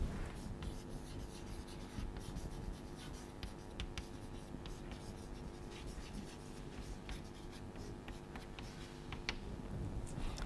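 Rules are being written out during a logic lecture. Faint, continuous scratching and tapping of a pen or chalk runs throughout at low level, with no talk.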